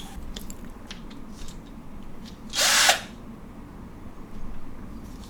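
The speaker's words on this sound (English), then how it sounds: "Then switch the drill driver to drilling mode and make a hole." A drill driver set to drilling mode bores a hole in drywall for an anchor, one brief, harsh burst of about half a second, close and loud against a quiet room with a few small taps before and after.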